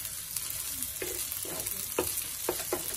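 A beef burger patty fries in butter over low heat, a steady crackling sizzle broken by sharper pops and spatters at irregular intervals, close and moderately loud with no talking.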